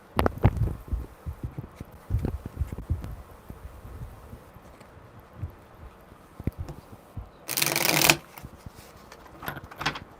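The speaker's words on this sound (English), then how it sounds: "one more good shuffle" Tarot cards are shuffled by hand in a series of soft, close riffles and taps, ending with a brief, louder burst of cards being bridged or riffled, with no talk.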